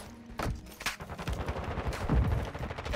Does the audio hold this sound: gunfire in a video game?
yes